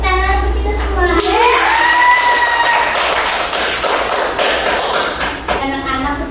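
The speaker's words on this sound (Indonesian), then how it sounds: "Oke, tepuk tangan untuk kita semua." A classroom of children clap their hands together in a dense, sustained burst of applause, with shouts and cheers mixed in and an adult voice speaking over the start.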